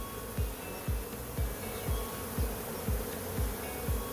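Honeybees buzz around a hive in a close, continuous hum, with regular low thumps pulsing about twice a second beneath the buzzing.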